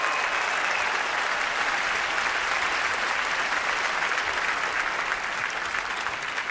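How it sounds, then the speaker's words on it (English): At a big tech keynote, a large crowd applauds a successful smart-glasses and watch demo, a dense, even wash of clapping sustained throughout. "Round of applause for Nishta"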